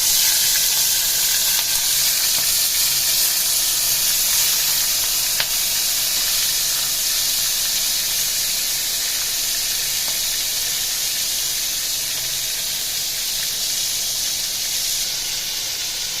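Steady, dense sizzling of prawns frying in hot oil, a continuous loud crackling hiss with no voices.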